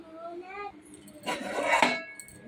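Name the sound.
metal plate placed as a lid over a curry pot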